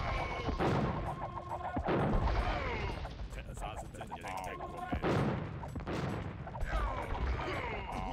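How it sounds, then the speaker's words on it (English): Bombard cannons firing in an Age of Empires II battle, a run of sharp booming blasts at irregular intervals amid clashing combat noise, loud and close throughout the game mix. "Now the bombard cannons focusing on the skirmishers."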